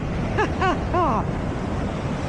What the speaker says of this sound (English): So you see the water comes down from the flood area here, comes down out to sea